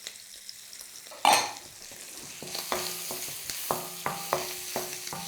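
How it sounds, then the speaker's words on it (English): Minced garlic pushed into a hot wok with king prawns crackles and sizzles close by, opening with a sharp clatter, then utensil scrapes and taps keep a steady stirring rhythm over the frying hiss. "I'm just going to push in my garlic"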